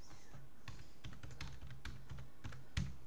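Someone types on a computer keyboard, producing quiet, close clicking keystrokes in short uneven bursts with no talking.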